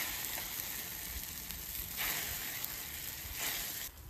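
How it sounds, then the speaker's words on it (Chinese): A duck egg pancake with scallions fries in a pan, making a steady close sizzle with a few brief louder hissing swells. "好好煎一下啊"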